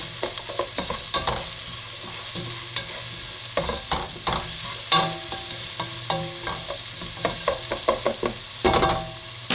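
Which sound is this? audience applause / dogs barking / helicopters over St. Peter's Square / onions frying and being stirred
onions frying and being stirred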